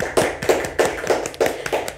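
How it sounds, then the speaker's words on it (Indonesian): An audience at an Indonesian talk event on the 2024 presidential election dispute claps on cue, a rhythmic, fairly close patter of hands in regular bursts with no talking. "Boleh tepuk tangannya teman-teman."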